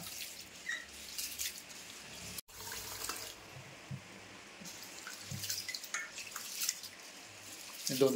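Rice being washed in water, with a continuous splashing, running-water wash and sloshing of grains close by, a brief drop-out partway through, and a voice speaking over it.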